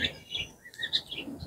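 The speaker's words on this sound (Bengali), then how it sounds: "তো ঘুঘু পাখির ডাকটা কিন্তু একদম অন্যান্য পাখির তুলনায় অন্যরকম।" Australian doves call in a short run of bright, chirping notes, several brief calls spaced over a second and a half, moderately close and clear against a quiet background.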